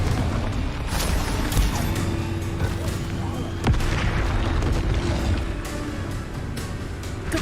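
Confringo fire spell exploding in the Hogwarts Legacy video game, a dense booming blast with a sharp crack partway through over a steady rumbling game soundscape.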